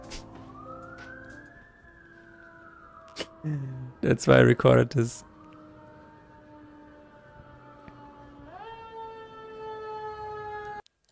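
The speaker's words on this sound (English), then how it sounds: "Oh, you can hear the sirens." Fire truck sirens in San Francisco wail, rising and falling steadily throughout, with a second siren tone joining near the end; a person speaks briefly over them.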